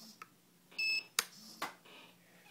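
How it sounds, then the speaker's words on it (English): A battery-powered radio gives short electronic low-battery warning beeps, a few brief tones spaced irregularly over a quiet background. "That beeping you hear is my radio telling me that it's low on batteries."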